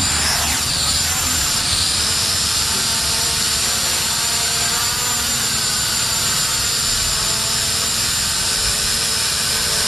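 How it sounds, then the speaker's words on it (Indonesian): A Hubsan H502E quadcopter drone's motors arm and lift it off, giving a loud continuous high-pitched whine and buzz that holds steady throughout. "kita arm motor dan kemudian kita angkat perlahan"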